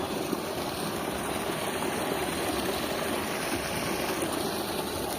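Steady rushing of flowing river water near a small check dam at Bileshwar Mahadev, Gundala, Jasdan, a continuous broad wash of sound with no pauses and no voices.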